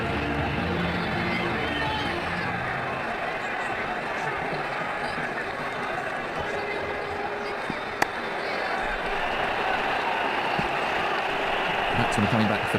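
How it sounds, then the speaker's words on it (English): Crowd noise at a cricket match in the game Ashes Cricket 2009, a steady dense roar of cheering and clapping running throughout, with a commentator's voice over it. "That shot brought the crowd to their feet."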